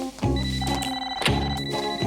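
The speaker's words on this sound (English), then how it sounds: "Your toaster's ringing." A cartoon toaster rings like an old telephone bell, loud and close, in repeated jangling bursts with no talking.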